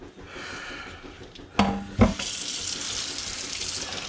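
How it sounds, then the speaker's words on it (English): Tap water runs into a glass jar holding plant cuttings, a steady hiss broken by two sharp clunks as the jar is handled, then a fuller rushing stream as it fills. "I'm gonna go ahead and stick these guys back in here and fill up the jar"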